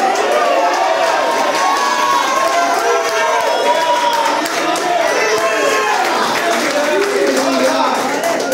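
Church congregation at a Portuguese-language revival service shouting together, a loud, dense, sustained roar of many overlapping voices with cheers and some clapping, filling the whole stretch without pause.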